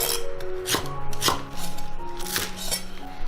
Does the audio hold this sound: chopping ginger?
yes